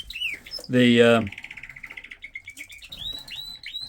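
Small caged birds in a winter birdroom chirp in short bright calls, with a burst of wing flapping or scuffling early on, then a quick rattling trill and sharp tweets, close and fairly quiet.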